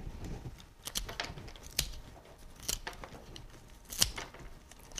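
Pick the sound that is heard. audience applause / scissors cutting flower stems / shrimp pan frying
scissors cutting flower stems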